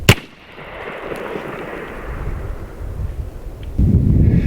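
An AEA Zeus 12 air-powered shotgun fires once with a sharp, loud blast at the start, followed by a lingering noisy rush of air and outdoor rumble.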